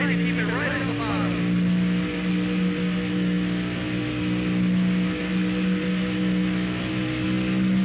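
A race car in a racing video game lapping the Chicagoland track, its engine holding a steady loud drone with slight pitch swells throughout, alone with no talk.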